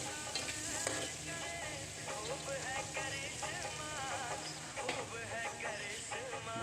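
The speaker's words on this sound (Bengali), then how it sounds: "জিনিসটা ফ্রাই হয়ে গেছে, তার মধ্যে দিয়ে দিলাম আলুটা।" Potatoes fry in a pan for chicken curry, giving a faint, continuous sizzle with soft stirring, mixed with a buzzing, insect-like hum in the background.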